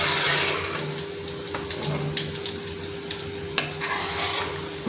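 Onions fry in a pan with a steady sizzle while a utensil scrapes and stirs through them. Clinks and faint kitchen noise sit close over the frying.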